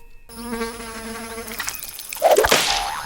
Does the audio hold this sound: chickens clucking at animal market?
no